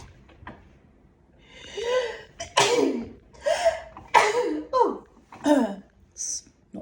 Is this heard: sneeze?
yes